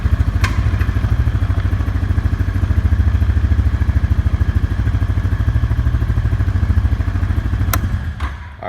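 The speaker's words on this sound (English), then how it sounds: "Shift up, you're in first. And yes, I'm short shifting right now." Honda Foreman 520 ATV single-cylinder engine being short shifted, a rapid, loud, even thumping beat close by, steady throughout with a couple of sharp clicks and the engine easing off at the end.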